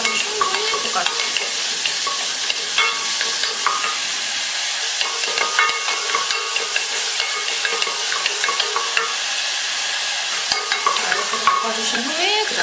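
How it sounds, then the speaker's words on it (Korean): Onions stir-frying in butter with garlic in a pan for Italian meat sauce, a steady close sizzle with light scraping of a spoon stirring throughout, no talking. "양파를 충분히 볶아주세요."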